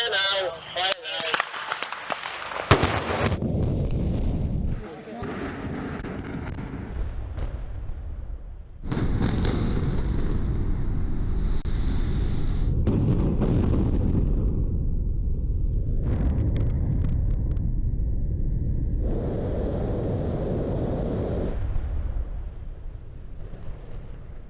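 Explosive demolition of the four Ferrybridge C power station cooling towers: a sharp blast burst at the start, then a long, heavy rumble of collapse rolling on and off with distant wind-like roar and faint voices.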